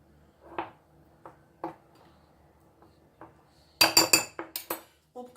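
Carrot cake batter being stirred in a bowl, heard as a few soft, sparse scrapes followed by a burst of brighter clinks from the utensil hitting the bowl, close and without speech.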